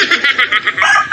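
A flock of chickens clucks in quick, repeated bursts, close by and fairly loud, as the birds crowd around people in the hope of food.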